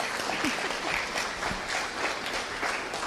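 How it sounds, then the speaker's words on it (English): Audience applause at a presentation, a steady dense patter of many hands clapping throughout, moderately loud with no talking over it. "Can we before we have questions, we give them a round of applause, please?"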